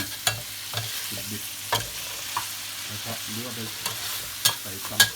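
Food being stir-fried in a pan sizzles under repeated stirring, with sharp intermittent scrapes and clanks of the utensil over a low, steady frying hiss, close and moderately loud.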